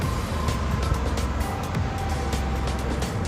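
Busy parking lot at a Flying J truck stop, a steady wash of idling and passing vehicle noise with a low rumble, fairly faint and distant, no talking.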